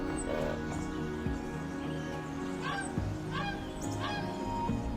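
A large endangered bird from the Karavasta lagoon colony gives repeated honking, goose-like cries at a moderate distance over a steady low background drone.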